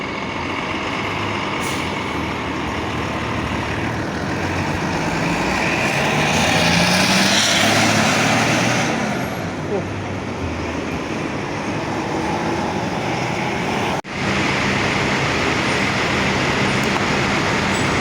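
Restu Jetbus 3 SHD coach bus pulling away from a terminal, a loud, steady diesel drone with broadband roar close by and a sharp air hiss midway, no voices.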